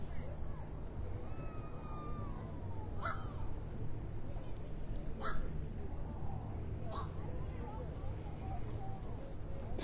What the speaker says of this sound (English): I don't know what kind of bird that is making that sound.